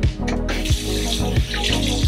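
Water from a bathroom tap runs steadily onto hands at a sink during a skincare routine, close and continuous, with soft rhythmic splashing as the hands rub.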